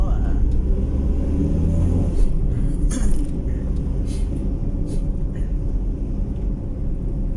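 Busy city road traffic in Iloilo, with a low rumble of car engines and passing vehicles and a few faint horn-like tones, as someone talks over it.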